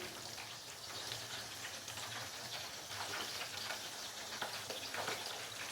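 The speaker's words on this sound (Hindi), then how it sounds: "और इसको मज़ीद फ्राई कर लेंगे मीडियम से लो फ्लेम पे तकरीबन 4 से 5 मिनट के लिए" Chicken pieces sizzle in hot oil over a medium-low flame for Parsi fried chicken farcha, a steady, dense crackling and spitting that runs throughout with no talk.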